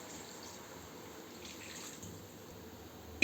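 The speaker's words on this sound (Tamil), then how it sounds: "2 சொம்பு தண்ணி ஊற்றிக்கலாம்" Water from a vessel is poured into a pan of frying chicken, making a soft, steady splashing and trickling pour that runs throughout at moderate level, with no talking.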